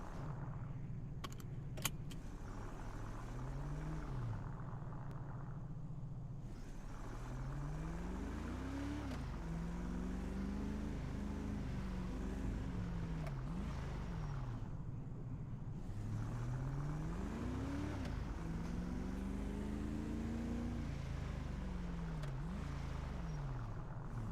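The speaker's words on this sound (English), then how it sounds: "This car always sounds so good." A car engine in a video game hums steadily with rising and falling pitch sweeps as it accelerates and shifts, continuous and close, with no talking.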